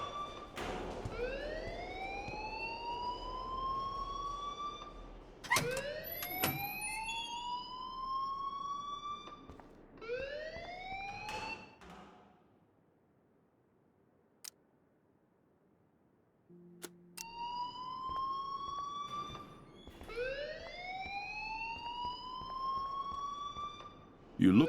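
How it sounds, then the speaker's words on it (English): In the video game Life is Strange, a school alarm sounds in repeated rising electronic whoops, loud and close, with a short quiet gap midway before the whooping resumes. "please turn off that alarm since that's your job"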